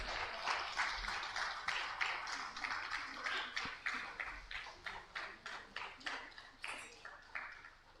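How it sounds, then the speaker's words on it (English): Conference audience at a wildlife warden and zoo director meeting gives a round of applause, fairly faint and distant, the clapping thinning into separate sharp claps toward the end. "I would like to ask everyone to give a great round of applause."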